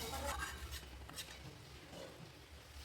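Vegetarian curry being stirred in a pan after kasuri methi is added, with a faint continuous scraping and a light sizzle, close but quiet.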